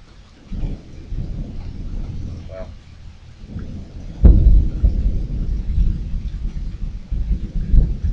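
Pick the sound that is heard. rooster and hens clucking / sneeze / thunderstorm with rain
thunderstorm with rain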